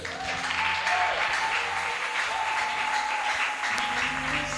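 A crowd at a gospel festival gathering applauds the Lord, a dense, loud and continuous roar of clapping that holds steady throughout with no speech on top.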